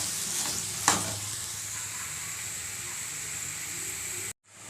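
Chopped ridge gourd sizzles steadily in a hot pan, a continuous close frying hiss with one brief clatter near the start and a sudden cut to quiet just before the end.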